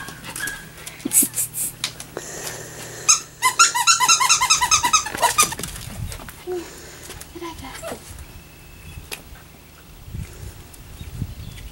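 A pink-collared girl puppy squeaks and growls in short bursts, with a cluster of sharp high squeals in the middle, while a person talks and coos nearby.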